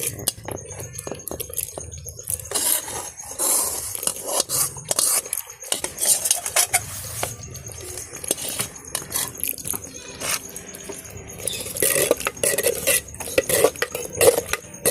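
A thick sweet pongal with cashews and raisins is stirred in a pot, the spoon clinking and scraping against the metal in an irregular, fairly close rhythm with soft wet squelches between strokes.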